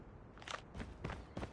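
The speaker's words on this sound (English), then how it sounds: "I hear footsteps." Footsteps in the Call of Duty Mobile shooter: four soft, evenly spaced steps on a hard surface, moderately close, followed by a sudden louder burst of game sound at the end.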